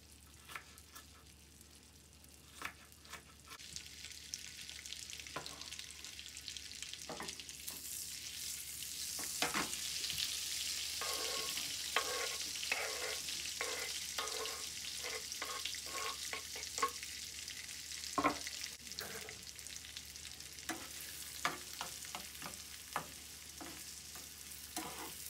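Onions frying in a pan for a sauce give a steady sizzle, with frequent clinks and scrapes of stirring throughout, close by and with no talking.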